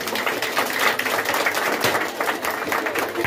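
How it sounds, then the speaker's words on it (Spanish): Dense applause from a community crowd at a children's day clown show, continuous clapping that swells and dips slightly with no voices above it. "vamos a darle una gran ovación, un gran aplauso"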